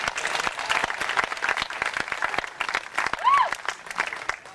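A theater audience at a live comedy stunt show claps in a dense, steady burst of applause, close and continuous throughout, with a brief cheer or whistle rising partway through.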